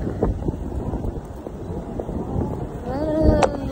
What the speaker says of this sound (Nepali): एकदम हावा चलिरहेछ